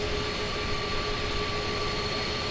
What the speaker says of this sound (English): Listen to the engine sounds again.